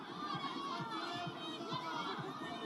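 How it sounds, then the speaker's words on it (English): Distant spectators at an outdoor women's rugby sevens match make a steady, faint wash of crowd murmur and children's voices, with no clear cheers standing out. "There's a huge crowd over on that far side,"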